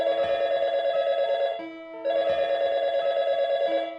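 A video game telephone rings loudly and electronically in two long bursts separated by a brief pause, with a steady tone holding through the gap.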